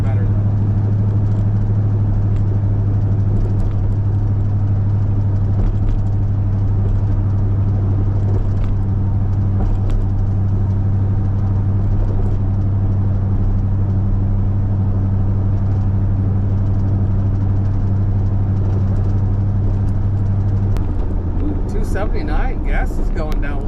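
Chevrolet C10 pickup with a big block V8 idling steadily up close with a deep, even rumble and a reported tick, the note shifting near the end.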